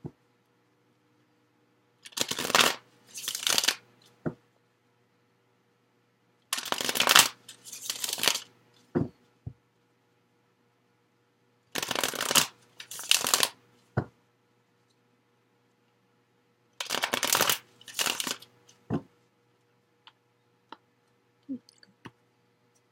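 Tarot cards from the After Tarot deck are shuffled in four separate quick bursts of crisp riffling and clicking, each followed by quiet, with small taps of cards being handled and drawn.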